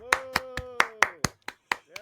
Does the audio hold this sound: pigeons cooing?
no